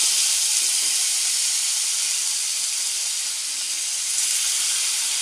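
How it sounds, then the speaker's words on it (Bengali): Marinated rohu fish pieces sizzling in hot oil with cumin, a dense, even hiss held steady at close range with no breaks. "আর ম্যারিনেটেড মাছগুলো ছেড়ে দেবো আস্তে করে"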